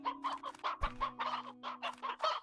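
Roosters clucking in the Slime Rancher video game, a quick run of short, choppy clucks and squawks in a steady rhythm, loud and close, with a low game tone humming underneath.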